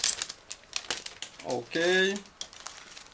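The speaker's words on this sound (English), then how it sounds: "we will start with this plastic bag" Plastic bag holding model kit sprues crinkling close up in a short burst of rustles, with a brief spoken word just before.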